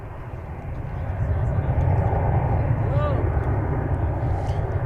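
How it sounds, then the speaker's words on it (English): Large airliner in One World livery at DFW airport, a steady broadband engine roar heard from a distance that swells slightly and holds loud, with a faint tonal whine drifting past near the middle. "we'll give you a long distance view of this big plane"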